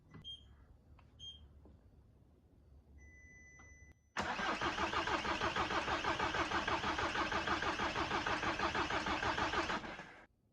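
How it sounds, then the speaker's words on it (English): A Skoda Yeti 2.0 TDI 4x4 diesel, its fuel not primed after new high-pressure lines were fitted, cranks for about six seconds in a loud, rapid, rhythmic churn before cutting off, following a few faint clicks and beeps. "The car is taking too long to start since I am unable to prime the fuel through VCDS."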